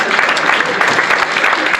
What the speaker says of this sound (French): vous pouvez applaudir, vous pouvez vous lever aussi.